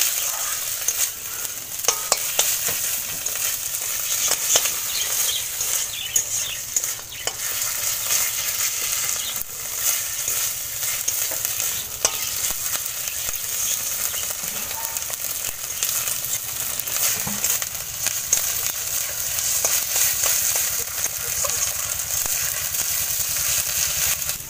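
Spice paste with ginger paste is stir-fried in a pan with cashew paste to follow: a loud, steady sizzle of frying oil runs throughout, broken by frequent close scraping and clattering stirs, with no talking.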